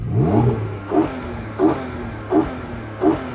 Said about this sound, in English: Now you can get a Boxster GTS with a 4-litre flat 6, and that sounds like this.